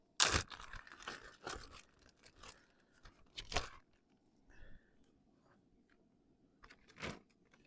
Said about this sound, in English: I'm going to put it inside this plastic bag.